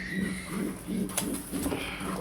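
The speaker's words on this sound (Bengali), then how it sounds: "এই হচ্ছে মাদি কবুতরটা" A female pigeon in a loft coos in soft, low, evenly spaced pulses, about five short rounds near the listener, with light background clatter and no speech.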